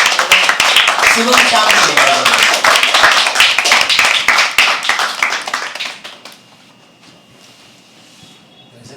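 Loud, dense clapping from a poetry open mic audience at The Habitat, with scattered voices over it, before it fades to near silence.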